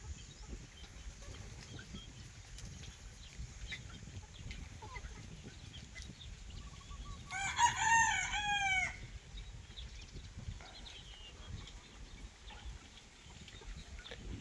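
Banded local stags crow in a quiet farmyard, one clear mid-distance crow rising briefly over faint background hiss, with occasional soft clucks.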